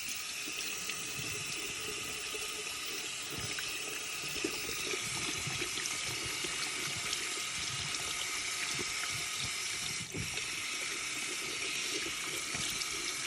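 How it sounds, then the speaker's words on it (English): Tap water runs steadily into a sink while a reborn doll head is rinsed beneath it, the constant splashing broken by soft irregular gurgles and spatters, close and quiet with no voices. "We're going to rinse it off and see what we're left with."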